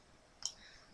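A single crisp computer mouse click on an order screen, one short near transient standing out against a quiet background.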